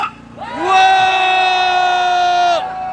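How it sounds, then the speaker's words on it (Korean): A street-rally crowd near Anguk Station lets out one loud, sustained shout of support that swells up and holds for about two seconds before cutting off. "응원하는 만큼 함성 한번 질러주십시오."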